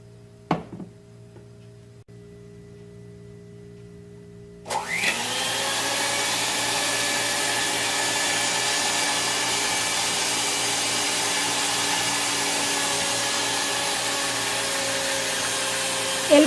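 An electric mixer beats eggs in a baking dish for cake batter, starting suddenly after a quiet moment and then holding a loud, steady motor whir close by with no talking.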